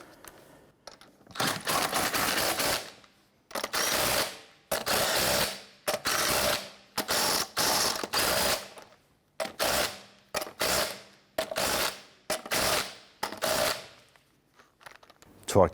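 Lug nuts on a 1999–2004 Jeep Grand Cherokee wheel are snugged down with a ratcheting wrench, giving repeated loud close bursts of rapid clicking separated by short pauses.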